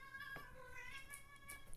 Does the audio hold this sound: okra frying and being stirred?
no